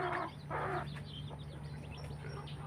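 Young roosters about eight months old cluck and call in a farm pen, with several short bursts near the start and softer chirpy clucks and rustling afterward over a steady low hum.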